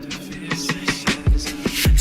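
Playback of a song: a steady beat with punchy low kicks and bright percussive hits, mixed with tonal music, fairly loud and continuous.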